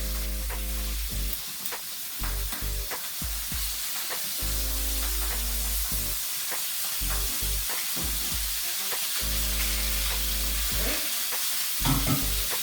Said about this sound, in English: Alright, meat going down. That is the sound that we want to hear.